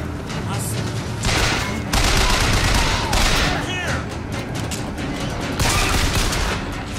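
Gunfire in the video game BioShock Infinite crackles as repeated loud shots and bursts over dense battle noise, with a voice speaking partway through.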